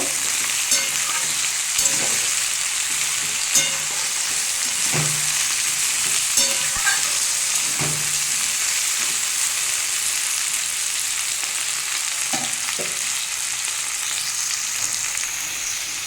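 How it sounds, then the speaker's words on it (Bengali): Potato, eggplant, drumstick and tomato fry in a pan with a constant bright sizzle, broken by several soft clinks and scrapes of stirring, close and without talk. "দেখুন আমার সবজিগুলো ভাজা হয়ে গেছে"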